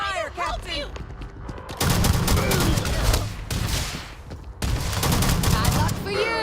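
Sustained EM rifle gunfire in the video game Starfield, two loud continuous bursts separated by a short pause, with a voice calling out beforehand and game voices mixed under the shooting.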